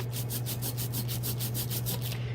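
A brayer rolls back and forth through tacky printmaking ink in a rapid, regular series of close sticky crackling strokes over a low steady hum, with no voices.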